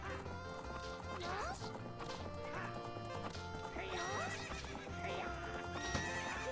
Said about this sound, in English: How did you tame that wild horse right under my nose?